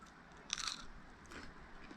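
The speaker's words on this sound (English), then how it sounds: "That pineapple, listen to the crunch." A single crisp bite into pizza crust topped with pineapple gives a sharp crunch, followed by quieter crunching and chewing, close up in a quiet kitchen.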